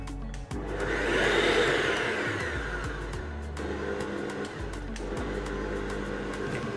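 A stand mixer with a dough hook kneads bread roll dough at very low speed, giving a steady motor whir that swells and then settles into a continuous hum, with a brief knock partway through.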